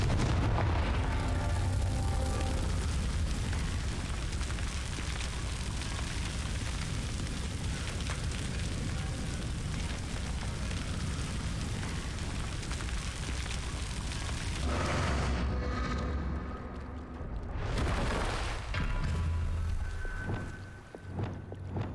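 Confringo spell explosions in the Hogwarts Legacy video game, a long, dense roar of blasts that keeps booming continuously and loudly, then breaks into a few separate bursts near the end.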